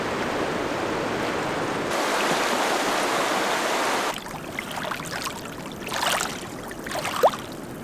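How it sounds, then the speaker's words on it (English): Steady rushing river water fills the first half, then drops to a softer, quieter flow with faint trickles and splashes near the end. "we hear the soft, gentle sounds of flowing rivers or the rhythmic tides lapping against the shore"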